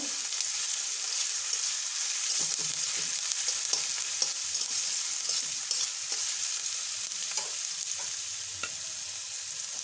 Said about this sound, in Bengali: পেঁয়াজটাকে একটু ভাজা করে নেব।